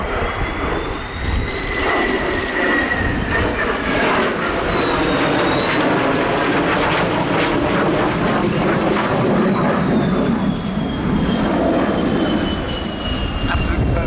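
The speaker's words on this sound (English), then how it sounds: "the 2 D-Day F-16s come in above for ready to land" Two F-16 fighter jets roar overhead on approach to land at an airshow, a loud continuous jet whine rising and falling as they pass, with a voice talking over the engine noise.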